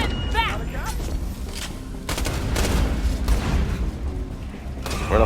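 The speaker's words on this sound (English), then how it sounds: "See, the accuracy on this SMG is really cool." SMG gunfire in the Borderlands video game, rapid loud bursts layered over a dense, busy game soundscape with steady background noise throughout.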